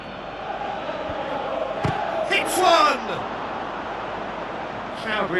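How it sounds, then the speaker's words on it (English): Simulated stadium crowd in a football video game swells into a loud collective groan and roar around a near miss on goal, rising over steady background crowd noise with a commentator's voice present. "Crowd reaction tells you just how close that was."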